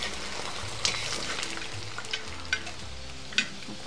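Potatoes frying in oil on a wide, shallow sadj pan, a steady close crackling sizzle with a few sharper pops and light taps breaking through the continuous hiss.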